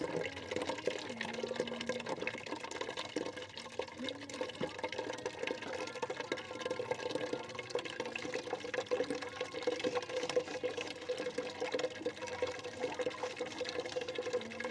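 Rinse water from hand-washed clothes is poured out onto grass, a steady splashing and trickling that runs for the whole stretch without talk.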